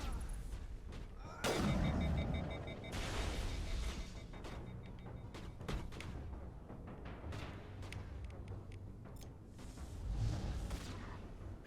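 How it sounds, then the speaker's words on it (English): Gunfire in the Mass Effect: Legendary Edition video game as Garrus shoots, a sharp burst followed by repeated thuds and cracks over a dense, rumbling battle backdrop, with another loud blast near the end. "Garrus is shooting at something hard."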